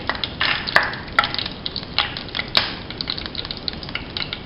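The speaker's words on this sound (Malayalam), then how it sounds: "അര ടീസ്പൂൺ കടുക് പൊട്ടുമ്പോൾ" Mustard seeds pop in hot coconut oil in a pan for a Kerala fish thoran, giving sharp, irregular crackling clicks and snaps over a soft continuous hiss, close and fairly loud.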